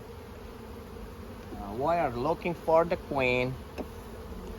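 Honey bees buzz steadily around an opened beehive while the frames are inspected during a hive split, a close, continuous drone sitting under a person speaking.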